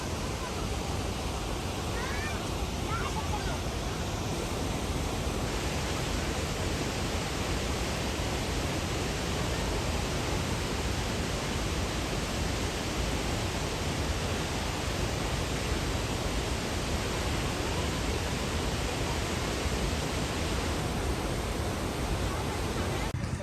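Chitrakoot waterfall on the Indravati river roars as a dense, steady wash of rushing water, loud and unbroken throughout, with no distinct voices above it.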